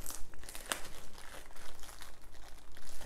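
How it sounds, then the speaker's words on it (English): A plastic bag from an unboxing crinkles and rustles steadily, with irregular close crackles and one sharper snap early on. "So comes in a plastic bag."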